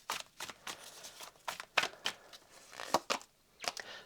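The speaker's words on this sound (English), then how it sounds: "Give that a little bit more of a shuffle." Tarot cards are shuffled by hand close up, giving a series of crisp, papery riffles and slaps in irregular bursts over about four seconds, fairly quiet with no talk.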